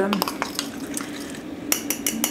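Utensil scraping and clinking in a pan while stirring melted butter and flour into a roux to thicken a creamy sauce, with irregular taps and a steady low hum beneath, several sharper clinks near the end.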